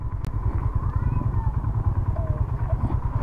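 A motorcycle engine idling low and steady as the bike is brought to a stop for parking, its rumble continuous throughout while someone talks over it.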